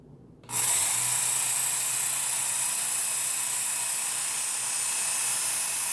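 A Work Sharp Ken Onion Edition belt sharpener spins up abruptly and runs as a steady, loud motor whine with belt hiss while a knife blade is sharpened on it, continuing unbroken with no talking.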